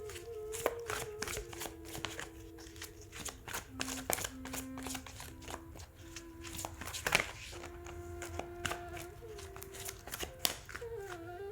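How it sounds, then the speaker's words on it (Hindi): Tarot cards are shuffled in quick, irregular bursts of riffling and slapping, close and fairly quiet, with a faint musical tone in the background. "सबसे पहले हम आपकी कार्ड शफल करेंगे"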